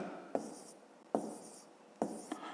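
A pen writes numbers by hand on paper during a fifth-grade maths exercise, making three short, quiet scratching bursts with brief pauses between them.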